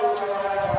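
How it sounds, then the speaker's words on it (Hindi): Heavy rain pours down during a monsoon downpour that is flooding a house, producing a dense, steady hiss with a brief low rumble near the end and no speech. "बारिश देखो यार,"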